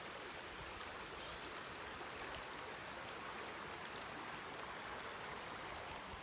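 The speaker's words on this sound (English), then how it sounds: "Love the sound of the running water like that." Running water of a stream in an outdoor spot: a steady, continuous rushing hiss, faint and even throughout, with no voices over it.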